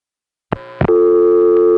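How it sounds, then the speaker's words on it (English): A 1970s long-distance telephone call during dialing: two short bursts of signalling sound, then a steady, loud, continuous tone that holds to the end. "This is what the dialing portion of the call sounds like."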